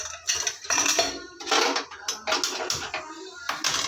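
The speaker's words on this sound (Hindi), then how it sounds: "इधर मैं चढ़ा दूंगी कढ़ाई" Metal kadhai set down on a home stove while making ghevar, giving a series of close clattering, scraping clanks of pots and utensils in bursts, no talk.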